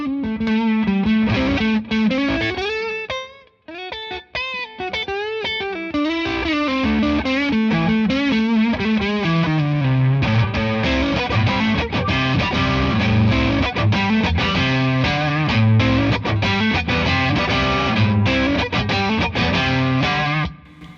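Distorted electric guitar played on the neck pickup through effects, with a long, loud, sustained riff of gliding bends and chugging chords, briefly dropping out early on before surging back at full volume, with no talking.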